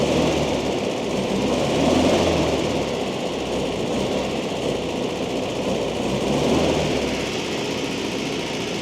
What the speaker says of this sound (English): That's why he's idling so fast.